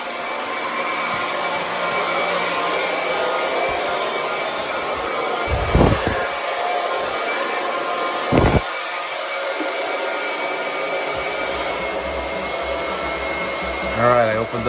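A pump runs at a water heater with its temperature and pressure relief valve opened, a steady loud whirring hiss broken by a few brief clunks and knocks.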